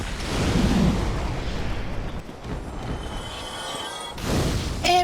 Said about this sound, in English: Might as well start using Fireball.